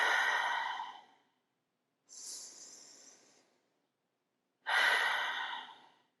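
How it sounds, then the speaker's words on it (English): Deep, audible breaths during a yoga low lunge twist: a long exhale, a softer inhale, then another full exhale, close to the microphone in a quiet room with clear silent gaps between them. "Taking 2 more deep breaths wherever you are."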